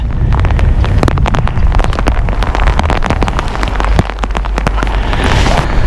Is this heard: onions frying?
no